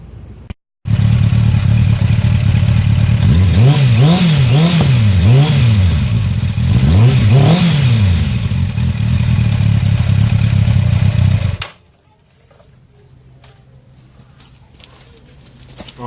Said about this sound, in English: that's the engine all warmed up a little bit